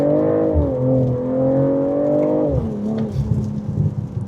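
A BMW M340i sedan's engine revs up, holding a strong steady tone heard from inside the cabin before the pitch drops as it eases off, with road and wind rush underneath.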